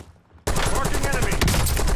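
Gunfire in Call of Duty Warzone starts suddenly after a quiet moment and keeps going as dense, close, rapid bursts of shots, like a firefight.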